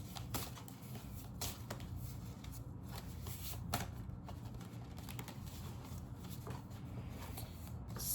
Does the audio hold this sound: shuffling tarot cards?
yes